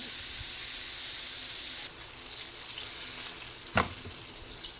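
Fried chicken frying in hot oil for a holiday meal, a steady broad sizzle and hiss running throughout, with a brief louder crackle near the end; no talking.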